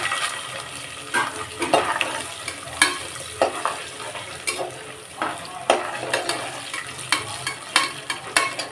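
Sundakkai and manathakkali berries frying in a pan for vathakuzhambu rice, a sizzling hiss broken by repeated scraping and stirring strokes at an uneven rhythm, with no talking.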